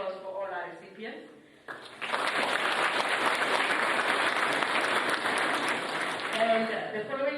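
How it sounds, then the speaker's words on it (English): Audience applause at a military academy awards ceremony, a voice talking briefly before a dense, even wash of clapping begins and continues steadily for several seconds. "I would like us to give a round of applause for all our recipients."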